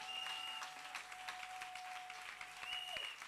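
A church congregation claps together during a Sunday worship service, steady applause filling the room with a faint sustained tone running underneath.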